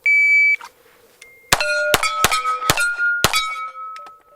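A short electronic beep from a shot timer sounds alone, followed by a rapid string of sharp gunshots from a Beretta PX4 .45 ACP pistol ringing against steel targets.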